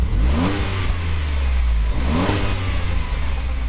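A 2015 Ford Edge Sport with a turbocharged 2.7-liter EcoBoost V6 and six-speed gearbox accelerates hard, its engine note climbing loud and close through two rising sweeps as it shifts.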